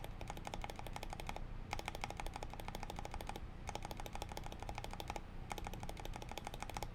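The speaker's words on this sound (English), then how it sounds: "Try the enter." Enter key on a custom E6.5 mechanical keyboard with Ink switches and stabilized keys, tapped in quick bursts of sharp, close clicks separated by brief pauses, with no talking.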